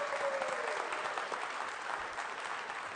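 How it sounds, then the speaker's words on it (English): A Toronto audience at a comedy panel show applauds in a steady, dense wash of clapping that holds for the whole stretch, fairly loud and unbroken, with no voices on top. "Give yourselves a round of applause for being such a great audience."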